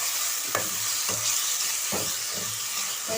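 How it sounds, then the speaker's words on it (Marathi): Onion and tomato sauté in a pan, a constant close sizzle with several soft scraping strokes of a spoon turning the mixture at an unhurried pace. "तर हे व्यवस्थित परतून घेते."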